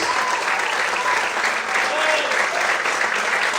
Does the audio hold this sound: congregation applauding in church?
yes